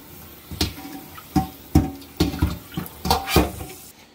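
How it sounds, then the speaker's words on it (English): Freshly foraged stinging nettles are rinsed under running water, heard as a soft, steady trickle broken by a series of handling splashes and bumps against the sink. "We're just gonna give them a quick rinse"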